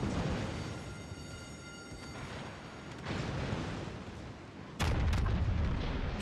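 Heavy cannon booms from a warship firing armor-piercing shells in a naval video game roll out over a dense rumbling background, and a louder blast lands near the end.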